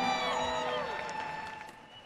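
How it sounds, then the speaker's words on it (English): A racetrack crowd at a Harley-Davidson Hooligan motorcycle race gives a steady wash of cheering and applause for a rider, loud at first and easing off over two seconds, with whoops and a long held tone running through it. "we'll give a big, huge round of applause"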